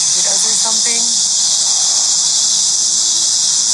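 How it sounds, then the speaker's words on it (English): Loud, steady cicada-like buzzing drone outdoors in a city, an unbroken high insect whine running throughout while someone talks briefly at the start. "you guys hear that noise? It's like, sounds like cicadas or something."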